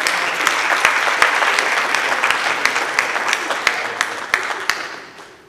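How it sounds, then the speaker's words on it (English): Audience applause at a school board meeting, a room full of steady clapping with a few sharper claps standing out, close and fairly loud, then fading away toward the end. "Can we give them a round of applause?"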